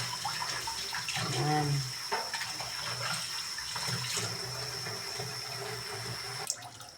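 Running tap water pours and splashes as vegetables are washed in a kitchen, a continuous nearby gush with brief handling sounds and a short spoken word near the start.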